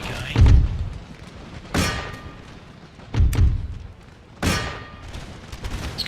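Artillery cannon fire in Empire: Total War, four heavy booms spaced over about six seconds, each a deep thud with a sharp crack and a trailing rumble, heard alone over a constant battlefield din.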